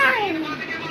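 A voice imitates a cat with a single short, falling meow, close and clear.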